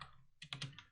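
Quick, close keystrokes tap on a computer keyboard while code is typed, a short cluster of soft clicks in a quiet room.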